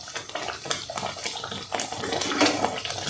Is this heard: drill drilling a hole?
no